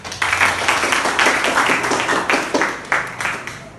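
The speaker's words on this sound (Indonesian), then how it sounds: "dengan tepuk tangan" Classroom audience of teachers and students applauding after a group presentation: scattered, uneven hand clapping with sharp individual claps, fairly close and moderately loud, sustained for several seconds.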